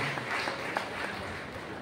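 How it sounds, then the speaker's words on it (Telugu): Audience applause at a silver jubilee celebration for two nuns in a parish church, a soft, steady wash of many hands clapping at a distance, quiet and continuous with no voices over it. "మరొకసారి చప్పట్లు కొడుతూ వారిని కూడా అభినందిస్తున్నాం"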